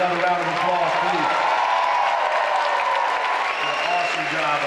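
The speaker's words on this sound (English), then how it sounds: "Let's give these young people another round of applause" An audience at a city event applauds a group of young people, the clapping sustained and broad while a voice speaks and music-like tones run underneath.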